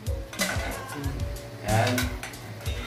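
Broccoli stir-fried in a pan for beef broccoli, with scraping and stirring strokes against the pan over a steady sizzle, several distinct scrapes in a loose rhythm.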